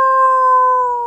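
A voice imitates a wolf howl, one sustained, steady tone that holds for about a second, loud and close, with no other sound around it.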